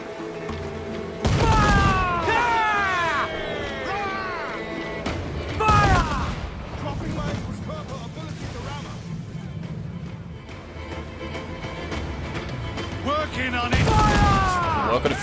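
Repeated heavy booms of ship cannon fire in Assassin's Creed IV, several loud blasts spaced seconds apart over a busy background of battle noise and voices.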